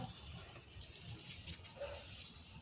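Water pours steadily into potted plants, including an ajwain plant and a red-flowered plant, during a hot day in the garden, making a soft, continuous splashing stream with no talk over it.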